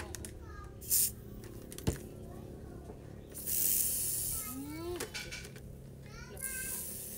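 An aerosol can sprays onto a helmet in about three short hissing bursts, the longest lasting roughly a second, set between quiet stretches while a person talks nearby.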